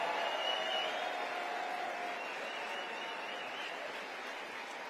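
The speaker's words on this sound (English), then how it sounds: "I want our Turning Point USA students to receive a round of applause" A large crowd at a Turning Point USA AmFest gathering applauds the organisation's students, the broad, continuous clapping sounding somewhat distant and tapering off slowly toward the end.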